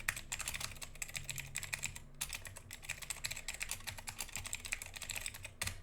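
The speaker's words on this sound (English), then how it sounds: "Typing that in for you." Rapid typing on a computer keyboard, close and clear, with bursts of quick key clicks broken by a couple of brief pauses and no voices.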